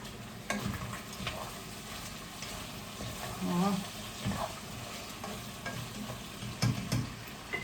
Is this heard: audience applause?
no